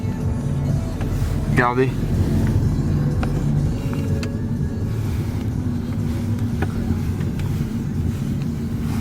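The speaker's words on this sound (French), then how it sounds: "Oh, sympa la Toyota 86." A Toyota 86 sports car passes on a street, its engine a steady low rumble that holds throughout, with a brief rising tone near the start as it goes by, while people chat over it.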